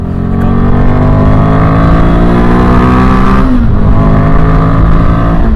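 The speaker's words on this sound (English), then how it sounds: "the most important item on this motorcycle is the engine" A loud Royal Enfield Himalayan 450 motorcycle engine revs steadily up close, its pitch rising and then dropping sharply near the end, with no voices.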